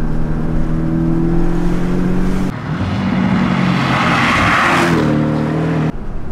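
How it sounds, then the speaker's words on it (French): A Porsche 718 Boxster S four-cylinder engine and exhaust under way, giving a loud, steady droning growl that shifts pitch twice as the car changes speed, with no voices. "La sonorité elle est très rauque, elle est assez feutrée quand même."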